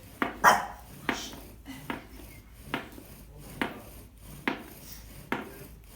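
A hand friction drill working a wooden board in a steady back-and-forth rhythm of short, rasping strokes about once every 0.7 seconds, close and fairly loud, grinding out sawdust and smoke, with no talking.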